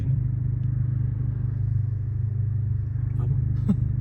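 Peugeot 106 with its original turbo, engine rumbling in a steady low idle, close and loud, with a faint voice briefly near the end.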